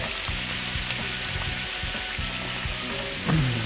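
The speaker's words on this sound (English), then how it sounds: "Moving those pork chops around, making sure they're good and golden." Pork chops fry in a pan with a steady, close sizzle and crackle, broken by repeated low scraping knocks as they are moved around, and a brief louder clatter near the end.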